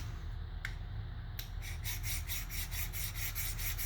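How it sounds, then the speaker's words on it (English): A double-edge broadhead blade is rubbed back and forth under pressure on a sharpener, giving a steady run of quiet, rhythmic rasping strokes over a low background hum, after a couple of separate scrapes at the start. "I'm going to roll my broadhead onto it, and I'm just going to work it back and forth like this"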